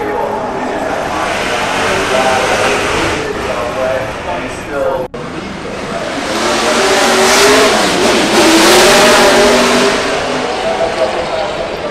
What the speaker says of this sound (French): il y a des voitures qui partent assez régulièrement